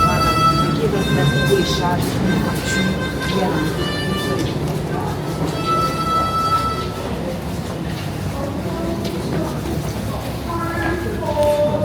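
A Paris metro train sits and moves in a station, with rumbling, squealing wheel and brake tones sounding over the hum of the platform. Several people talk nearby.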